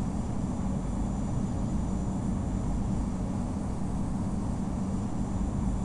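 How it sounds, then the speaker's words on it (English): Boeing 787-9 airliner taking off in Infinite Flight, with a steady, loud low engine roar and broad rumble that holds evenly throughout, no voices over it. "Speedbird 195 flight of 2 is taking off runway 30"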